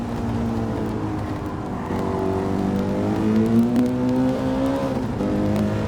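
A race car engine in a racing video game at Laguna Seca drones loudly and steadily, then its pitch climbs as the car accelerates out of a corner, with no talk over it.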